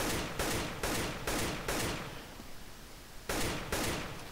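Rapid bursts of gunfire shooting grenades in a first-person shooter video game on the Mirage map, with loud repeated volleys separated by short gaps and a sustained noisy stretch in the middle.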